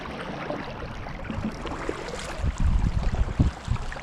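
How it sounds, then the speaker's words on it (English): Kayak paddled hard into a headwind on the water, with rushing wind noise and low rumbling splashes of paddle strokes growing heavier toward the end, close to the microphone. "the wind's really going against me today. So I'm paddling right hard"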